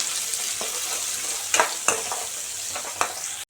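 Onion and garlic sauté in sesame oil for okra tamarind curry, giving a soft, steady sizzle close by, broken by several sharp scraping stirs of a spoon in the pan.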